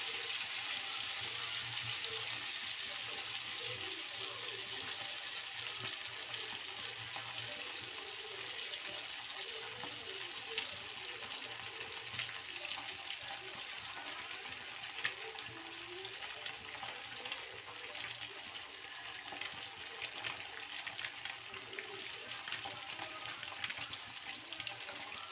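Sardines fry in oil in a pan, giving a faint, even hiss and crackle that runs unbroken throughout, with no one speaking.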